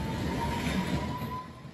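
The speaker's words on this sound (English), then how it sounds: "the train chugged through the dark tunnel" A train rumbles steadily through an underground railway tunnel, a low continuous roar with a faint high whine, fairly quiet and without voices.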